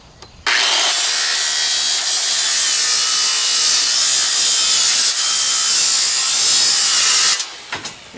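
A diamond saw fitted with a metal cutting blade bites into its workpiece with a loud, steady, high-pitched grinding screech that holds for about seven seconds, then winds down. Nobody speaks over it.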